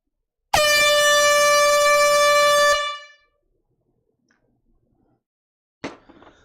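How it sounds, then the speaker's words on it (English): A single loud, sustained air horn blast of about two seconds, blaring near and alone at a live vinyl record sale, followed by silence and a brief thump. "May the air horn be with you."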